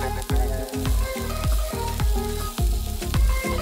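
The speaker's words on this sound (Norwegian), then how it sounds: "Da tar jeg freser løken i panna med litt olje." Onion, garlic and herbs fry in oil in a pan, a steady loud sizzle broken by repeated scraping stirs at a regular rhythm, close up.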